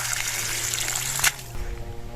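Water running steadily for watering eggplant seedlings at a farm plot, a continuous close trickle and gush throughout with a brief louder splash midway.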